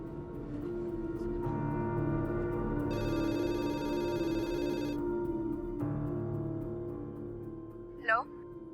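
A telephone rings repeatedly with a warbling electronic tone while a call is redialed, sounding over a steady background hum, with a short chirp near the end.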